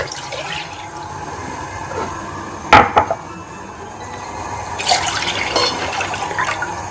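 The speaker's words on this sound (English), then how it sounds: "Now add 2 cups of milk." Milk is poured into a thick-based pan on the stove, a soft liquid rush with brief clinks and splashing, fairly close and with no talking.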